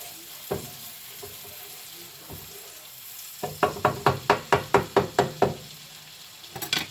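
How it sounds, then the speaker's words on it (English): A soft steady sizzle of garlic frying in butter for Brussels sprouts runs throughout, with a rapid series of sharp knocks partway through. "you let the garlic sizzle for a minute"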